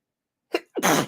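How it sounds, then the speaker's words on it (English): A single sneeze, a sharp intake followed by a loud, breathy burst, close up against silence. "Gotta sneeze"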